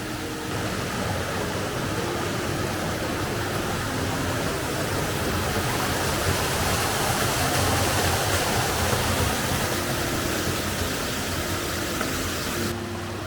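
The Merna river in Istria runs over rapids and through small pools, a steady, dense rushing roar of water that holds constant and fills the whole scene, with no voices.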